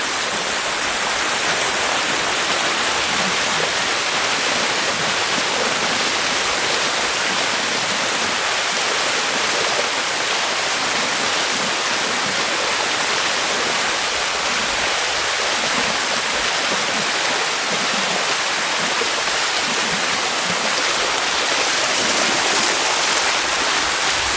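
Bua Tong waterfall at Mae Taeng, Chiang Mai, pours with a steady, dense roar of falling water that stays loud and unbroken throughout, with no voices over it.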